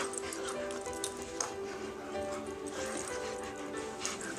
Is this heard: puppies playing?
yes